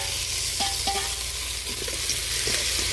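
Tomatoes and green chillies fry in a pan at an outdoor village campsite, a close, steady sizzle with light scraping stirs over a low background hum.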